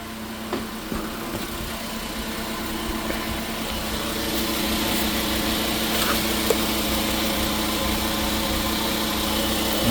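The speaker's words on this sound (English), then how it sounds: "Motor sounds good." A car engine runs steadily after an oil change, a fairly quiet continuous hum and clatter that grows slightly louder, with a few faint clicks and no talk.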